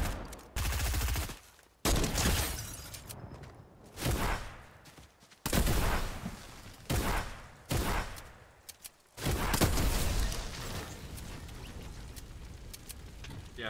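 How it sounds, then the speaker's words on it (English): Heavy bursts of gunfire in the Fortnite video game, loud rapid volleys separated by short pauses and ending in a long sustained barrage. "Gunshot somewhere along here."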